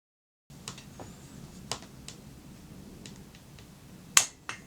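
A torque wrench clicks while tightening the cylinder head bolts on a 2002 Triumph Bonneville America engine, producing a few sharp, close, isolated clicks spread unevenly over a quiet background.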